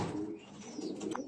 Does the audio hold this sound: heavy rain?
no